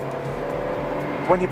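A Kia Picanto city car with an 83-horsepower engine accelerates under the gas pedal, giving a steady, moderate engine drone throughout, with a voice speaking over it.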